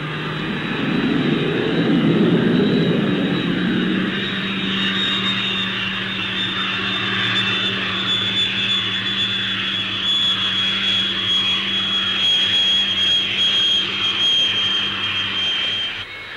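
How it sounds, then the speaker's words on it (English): Folland Gnat jet aircraft landing with a parachute brake at an airshow, a steady loud jet engine roar with a high whine, sustained for about sixteen seconds without speech. "An increasingly common practice with high-speed aircraft is followed by the Gnat, the use of a parachute brake when landing."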